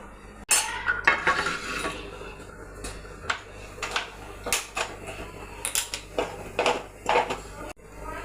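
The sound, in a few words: stirring cooked tapioca (kappa) in a pot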